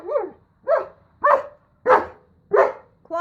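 A dog barks at a vacuum cleaner indoors: six loud, close barks in a steady rhythm, about one every half second, with no other sound between them.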